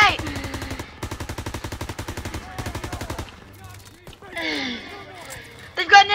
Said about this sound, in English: They've got an MG!